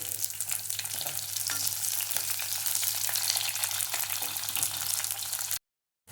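Garlic and onions sautéing in a pan, a dense steady sizzle with a low background hum, faint stirring ticks throughout, then cut to silence just before the end.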